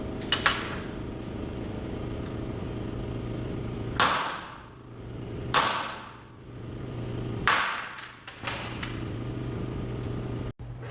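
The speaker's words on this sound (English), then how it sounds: "Center punch that." A hammer strikes a center punch into metal, three sharp ringing metallic taps spaced a second or two apart with brief decays, close and clear over a low steady hum, followed by a quieter knock.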